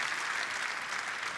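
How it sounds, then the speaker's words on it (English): A crowd claps steadily in a dense, even wash of applause, with no voices standing out. "Let's give them a really round of applause."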